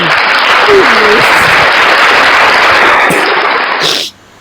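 Loud, dense applause from a crowd at a Christian gathering, sustained for about four seconds with a brief voice buried in it, then cutting off abruptly.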